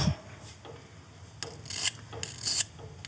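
Scale is rubbed off enamelled metal with an abrasive, giving soft rasping strokes in several short bursts, close and fairly quiet with no speech.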